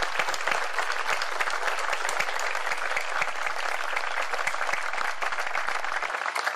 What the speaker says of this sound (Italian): io per loro farei un applauso